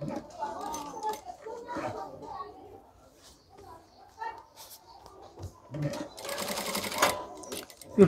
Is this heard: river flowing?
no